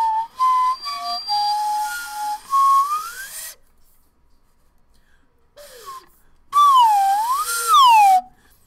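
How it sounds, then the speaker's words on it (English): A big old slide whistle plays gliding tones, stepping and sliding upward in pitch, then after a pause sweeps up and down in loud swooping glides, all without talk. "it's like a slide whistle, big old."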